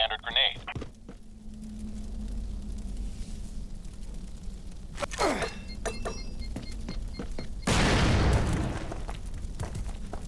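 A subsonic grenade from the game Fracture blows up through a broken wall: a loud, dense burst lands about eight seconds in, over a steady low game rumble, with an earlier sharp crack.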